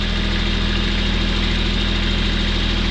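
A Kubota tractor engine idles steadily nearby, a loud, even mechanical rumble with a fast regular pulse that continues unbroken and without voices.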